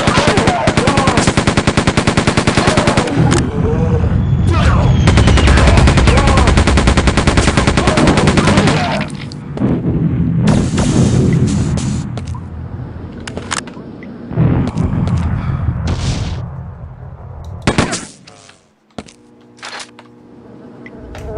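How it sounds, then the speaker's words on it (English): Sustained machine gun fire from a military shooter video game, dense rapid bursts for about nine seconds, then scattered shorter bursts and sporadic shots with quieter gaps, loud and close. "So the machine gun's overpowered."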